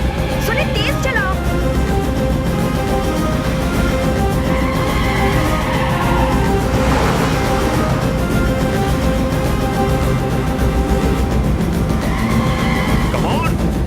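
A car speeds through a chase scene in a Hindi action film, its engine roaring continuously with screeching tire skids, close and loud, mixed with shouting voices and background score.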